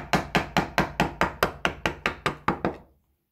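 A steel chisel is knocked into wood about a dozen times in a steady, quick rhythm to clear out a chip during a carpentry exercise, each knock sharp and close, then the tapping stops.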